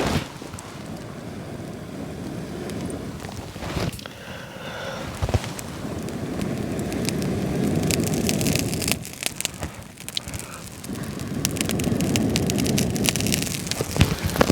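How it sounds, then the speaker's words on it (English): A campfire lit with a candle crackles steadily outdoors, with dense popping and hissing up close and a few sharper snaps. Rushing wind noise sits under it throughout. "Like you see it right now, you hear it crackling, like that should burn."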